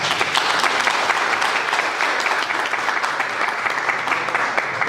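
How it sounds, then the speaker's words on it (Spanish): An audience at a Spanish-language lecture on international humanitarian law gives a strong round of applause to welcome a speaker, steady dense clapping from many hands, loud and continuous without talk. "Recibimos entonces a Alejandro con un fuerte aplauso"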